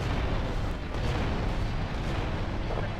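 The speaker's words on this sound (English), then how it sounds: "In the street races, you can use explosions to kill your opponents without being disqualified." A dense, continuous roar of explosions in a GTA: Vice City street race, loud and sustained throughout, with no separate distinct blasts.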